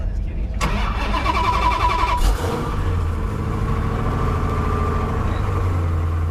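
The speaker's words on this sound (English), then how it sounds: "Go ahead and put it in neutral and crank it till it starts." A 1969 custom Plymouth Roadrunner muscle car cranks over and fires, its engine catching loudly and settling into a deep, steady rumbling idle that fills the rest of the clip, with a voice speaking briefly near the start.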